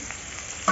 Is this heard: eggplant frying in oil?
yes